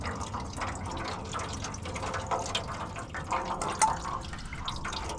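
Fuel trickles and drips from the tank of a GMC S-10/Colorado/Sonoma pickup during a fuel filter change, a faint, close, uneven watery splatter with occasional sharper drips.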